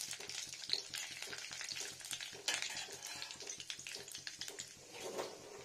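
Peanuts fry in oil in a pan, giving a quiet, uneven sizzle with a run of faint rhythmic ticks and scrapes from stirring.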